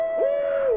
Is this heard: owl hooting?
yes